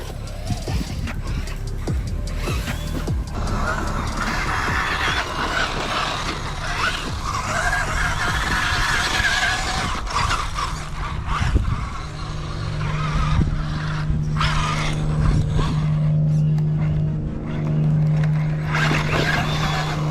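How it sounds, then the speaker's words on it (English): A Vanquish Optic H10 RC buggy climbs a rocky hill outdoors, its electric motor whining and revving over crunching, scrabbling tires and gravel, loud and close with a rising sustained drone in the second half. "Watch this buggy rip up the hill."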